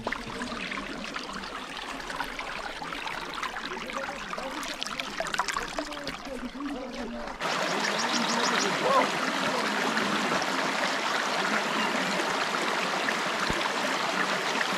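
Cold water stream running in a natural spot near Bangalore, a continuous close rushing and trickling wash that grows louder and brighter halfway through, with no talk heard over it.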